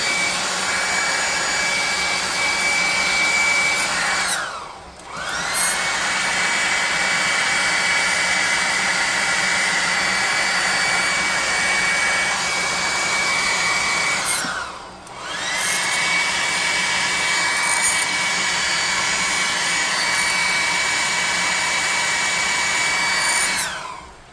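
A hair dryer blows on freshly painted futuristic tabletop scatter terrain, a loud, steady, close whoosh that cuts out briefly twice before starting up again.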